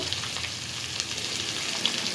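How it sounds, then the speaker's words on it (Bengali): Hilsa fish heads rubbed with salt and turmeric fry in hot oil, giving a soft, steady sizzle with faint crackles throughout and no voices. "এর মধ্যে নুন হলুদ মাখানো মাথাগুলো ছেড়ে দেব।"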